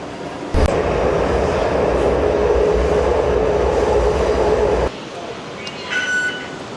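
Taipei Metro train arriving at a station, a loud sustained rumble and rush that cuts off abruptly, followed by quieter platform ambience with a brief high tone.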